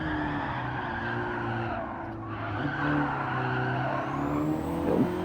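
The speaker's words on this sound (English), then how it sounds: "Little drift action there." A Ford Focus RS drifts with a sustained, loud tire squeal over a steady engine drone, the pitch shifting as the car slides through the turn.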